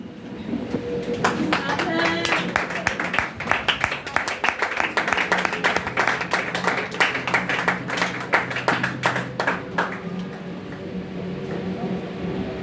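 A church congregation claps in praise of the Lord, a dense burst of applause that swells for several seconds and then fades into a quieter room with a voice in it.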